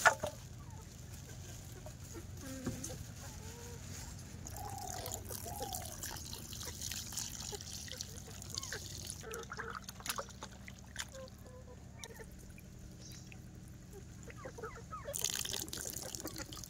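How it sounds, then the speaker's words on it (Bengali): Onion, garlic, ginger and potatoes are rinsed together in water outdoors, with soft trickling and splashing at a low level and a chicken clucking faintly in the background. "ভালো করে ধুয়ে নেবো এগুলো, পেঁয়াজ রসুন আদা আলু সব একসাথে"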